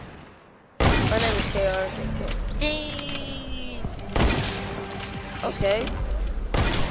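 Sniper rifle shots in an online shooter video game crack out as a few loud, sharp bursts spaced several seconds apart, with players' voices talking over the game audio.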